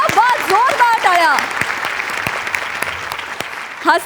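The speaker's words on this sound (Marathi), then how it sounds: "जोरदार टाळ्या." Studio audience applauding at a Marathi comedy stage show, a burst of close clapping with voices talking over the start and again near the end.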